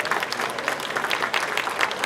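An audience at a chamber of commerce reception claps for the board chair, a dense, continuous round of applause from many hands that stays close and steady for the whole stretch.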